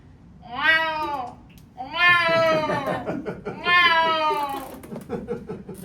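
A comedian performing a stand-up set imitates a hungry cat with three long, whining meows, each rising and falling in pitch, with pauses and faint audience sound between them.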